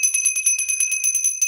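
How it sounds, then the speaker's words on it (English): A small bell is shaken for tarot card reading, giving a rapid, steady jingle of bright metallic rings that repeat evenly, close and clear with no talking. "Just shake the bell one more time."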